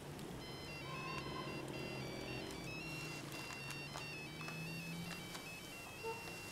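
A mobile phone rings with a repeating electronic tone, moderately near and steady against a busy background hum, with no talk during the ringing.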